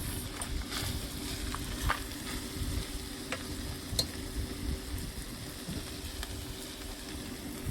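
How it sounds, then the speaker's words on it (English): Carrots go into a pan where saltfish is frying, bringing a loud continuous sizzle with scattered stirring scrapes and clicks, close up and with nobody talking. "So now I'm going to add my carrots."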